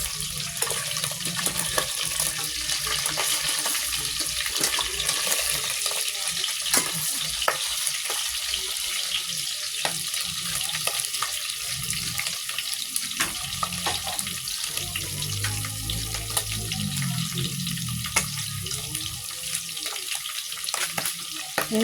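Pork belly fries in a pan with steady crackling sizzle and frequent sharp pops from spattering fat, continuous and close, with occasional low scraping and stirring sounds.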